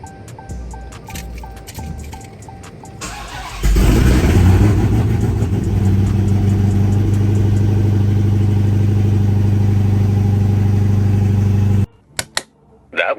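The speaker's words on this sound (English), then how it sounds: "Supercharger is back. Sounding great." A supercharged Dodge Hellcat engine starts and settles into a loud, steady, deep idle with a constant mechanical whine, running close for several seconds before cutting off, followed by a few brief knocks.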